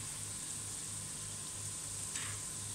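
Garlic, two green chilies and a small piece of ginger sauté in a pan for Kathiyawadi undhiyu, giving a faint, steady sizzle throughout.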